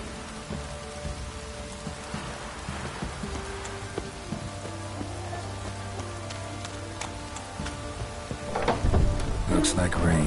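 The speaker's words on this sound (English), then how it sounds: "Looks like rain." Steady rain in The Witcher 3: Wild Hunt pours down with scattered droplet patter, a low rumble underneath, and a burst of heavier splashing near the end.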